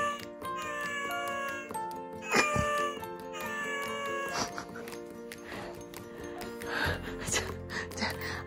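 A recorded cat meow plays from a children's sound book's small speaker, a thin electronic tone, with rustling and faint voices around it.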